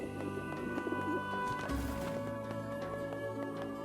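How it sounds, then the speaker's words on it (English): Pigeons coo in the video game NieR Replicant, soft rounded calls repeating close by over steady game music and ambient tones. "Pigeons."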